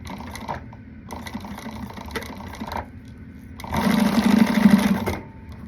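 A sewing machine stitches a zipper tab onto a vinyl wristlet in short bursts, with a brief run early, a longer stretch in the middle and a louder, faster run near the end.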